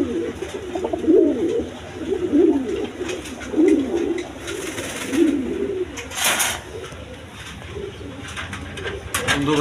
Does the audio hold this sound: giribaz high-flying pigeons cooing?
yes